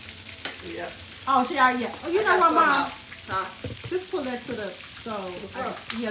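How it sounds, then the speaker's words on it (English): Catfish sizzles steadily in a frying pan in a home kitchen, a constant hiss running beneath several people talking close by. "that's the catfish frying"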